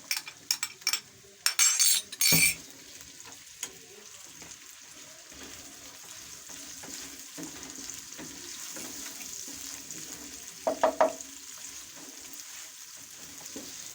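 Chopped onions frying in a pan for a turnip and pea curry, a steady soft sizzle running throughout, opened by a few sharp clinks of a utensil and later punctuated by brief scraping taps.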